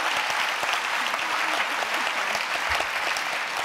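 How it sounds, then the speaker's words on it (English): An audience applauds steadily at a live interview event at the 92nd Street Y, a dense, even wash of many hands clapping at close range that holds throughout with no talk over it. "I think they deserve a round of applause"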